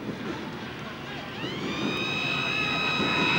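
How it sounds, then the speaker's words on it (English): A full-time siren sounds at a 1982 KB Cup Round 2 rugby league match between Wests and St George. A long, steady tone starts midway and holds to the end over constant stadium crowd noise. "There's the siren. The match is over as far as the timekeeper is concerned."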